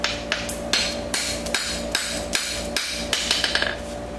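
A hammer strikes a horseshoe heel caulk in a quick, fairly regular series of sharp ringing blows, close and loud, with no talking.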